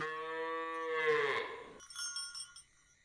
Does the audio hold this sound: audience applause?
no